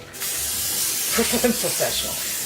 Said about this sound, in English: a little bit of cooking spray on your griddle